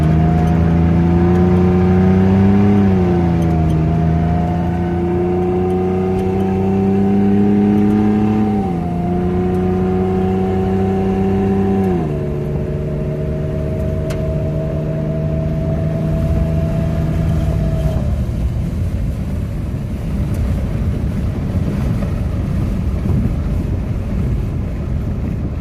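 A Ford Ranger with a cold air intake accelerating hard from 0 to 60, a loud, close engine drone climbing in pitch through three gear changes, then fading into heavy road and wind rumble.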